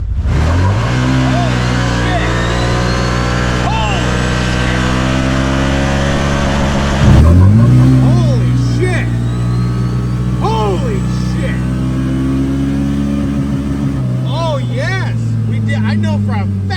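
A CFMOTO UForce 1000 XL UTV with ECU tune and Elka shocks revs hard and accelerates in loud repeated bursts, with high-pitched tire squeal and people shouting excitedly over it.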